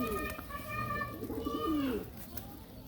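Pigeons coo close by in low, wavering calls while a person talks over them, the cooing rising and falling across several seconds before fading out.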